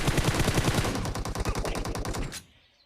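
Automatic gunfire in the mobile game BGMI on the Erangel map, a rapid, steady burst of loud, close shots lasting over two seconds before cutting off sharply into near silence.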